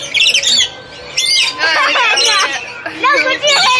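Loud, close squawks and chirps from birds landing on children, harsh repeated calls in bursts with a crowd babbling and talking underneath.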